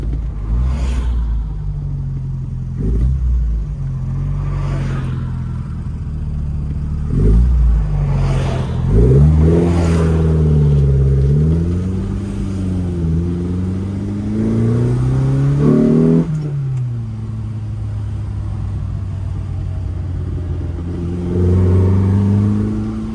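A Lotus Elan restomod on carburettors revs at part throttle while driving, running slightly lean. The engine note climbs and falls through several steady, loud sweeps, with a few brief stumbles and rises along the way.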